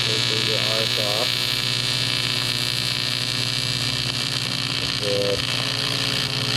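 A Lincoln Squarewave welder arc-welding aluminum, a loud steady electrical hum and buzz that holds constant with faint warbling tones, close and uninterrupted with no talking.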